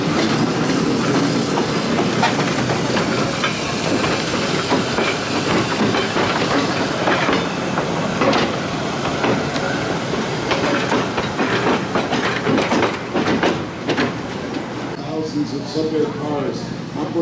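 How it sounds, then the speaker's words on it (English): Vintage New York subway cars, long-serving in the city's system, run past during a trolley museum parade, with rhythmic clickety-clack of wheels over rail joints, hissing and some squeal as they pass, under a narrator's voice. "cars operating for over half a century in New York from the subway system"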